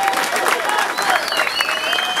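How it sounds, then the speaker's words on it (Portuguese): An audience at a live comedy show applauds in a steady, dense wash of clapping, with whistles and a few voices rising over it throughout. "uma soma de palmas para essa seleção"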